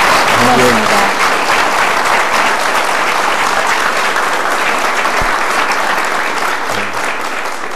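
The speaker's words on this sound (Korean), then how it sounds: "여러분 큰 박수 한번 드릴까요?" A large studio audience applauds the South Korean president at the close of a televised town-hall conversation, loud dense clapping that holds steady throughout and fades slightly near the end, with a few brief voices underneath.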